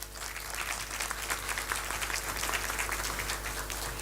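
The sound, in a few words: audience applause at debate event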